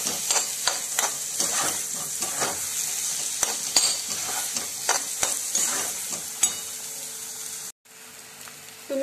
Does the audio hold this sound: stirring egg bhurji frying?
yes